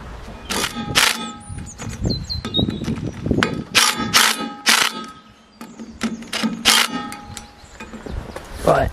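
Heavy metal wheels being refitted to a DIY mobile bandsaw mill, giving a run of close, loud clanks, knocks and metallic rings at irregular intervals, with brief tool squeaks in between.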